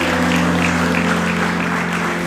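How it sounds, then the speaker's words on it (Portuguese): A church congregation claps steadily after a choir performance, with even, sustained applause and a low hum from the sound system underneath. "Pode sentar aplaudindo ao Senhor"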